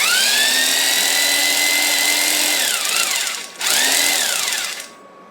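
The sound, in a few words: 1/2 inch saber saw running on battery power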